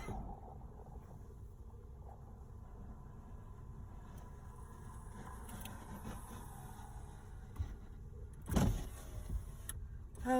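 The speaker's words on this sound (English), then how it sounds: "Roll the window down and get some air going." A car's power window motor whirs faintly inside a quiet idling car, followed by a couple of brief thumps and bumps.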